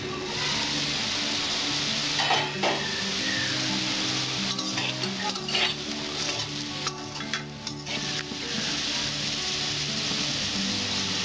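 Potatoes frying in a pan for a Bengali bitter gourd and potato bhaja, with steady sizzling crackle and scraping stirs of a spatula throughout, close and continuous with no voices.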